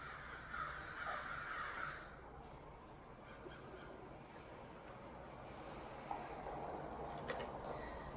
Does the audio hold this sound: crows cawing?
yes